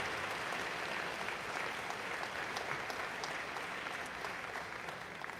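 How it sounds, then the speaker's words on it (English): A school prize day audience gives sustained applause for newly chosen stewards and student leaders, a dense steady wash of many hands clapping that fills the hall evenly and fades only slightly toward the end. "a big round of applause for our stewards and all our formal leaders"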